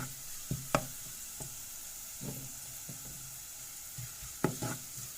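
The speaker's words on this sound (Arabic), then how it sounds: "هشوح كده في البصل لحد لما يبقى لونه ذهبي غامق او بني" Onions being stirred and fried in a pan until golden brown: a soft, steady background sizzle broken by occasional spatula scrapes and knocks against the pan, heard close and without speech.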